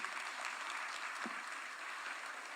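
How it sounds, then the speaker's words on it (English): Delegates at an international nuclear energy conference in Nairobi applaud, a sustained, fairly distant and even round of clapping from a large hall audience, with no speech over it. "Another round of applause to His Excellency."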